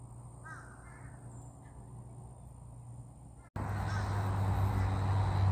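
Geese that have landed in a farm field honk and cackle in short repeated calls, first faint and distant, then louder and closer, over steady outdoor rumble.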